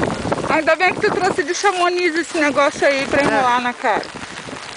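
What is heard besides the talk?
rain mixed with snow falling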